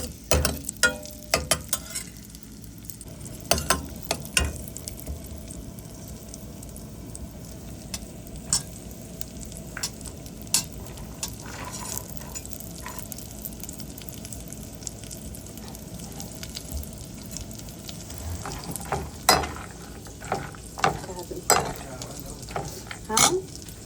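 Raisins and cashews fry in a pan for kheer, a low steady sizzle punctuated by frequent sharp clicks and scrapes of a utensil against the pan.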